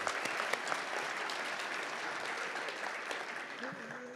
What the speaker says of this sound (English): Let's give them a round of applause because they do such a great job.